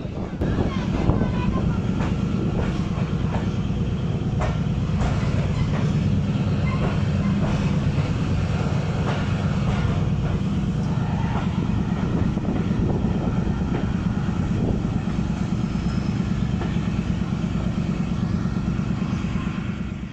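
Narowal Passenger train running on the line between Lahore and Narowal, a steady loud rumble of wheels and carriage noise with rattling and wind buffeting throughout, no clear gaps.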